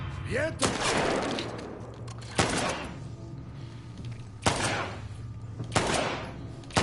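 Gunfire in The Last of Us Part II, several loud sharp shots spaced a second or two apart with ringing echoes and crunchy impacts, heard over background game ambience and some talk.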